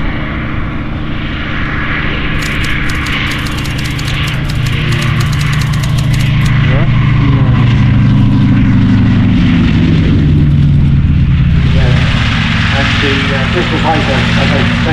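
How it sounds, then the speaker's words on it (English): A Bristol Fighter biplane with a 275 horsepower Rolls-Royce Falcon 3 engine drones loudly and steadily at an air show, its engine note shifting in pitch as it passes, with an announcer talking over it. "Bristol Fighter, as I mentioned a moment ago, powered by a 275 horsepower Rolls-Royce Falcon 3"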